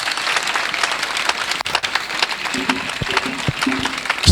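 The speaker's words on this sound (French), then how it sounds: "Acclamation." Inside a church service, the congregation breaks into loud, dense clapping and cheering that keeps going for a few seconds, with a couple of raised voices rising over the applause.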